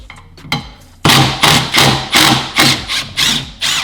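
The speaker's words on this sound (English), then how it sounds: "I'm using a T40 on the impact drill" An impact drill with a T40 bit fires in a run of loud, rhythmic hammering bursts while removing rotor screws, about eight in quick succession after a couple of softer knocks.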